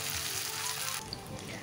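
Cut taro hits hot oil with tempered spices in a pan, a soft steady sizzle that drops suddenly to a quieter hiss partway through.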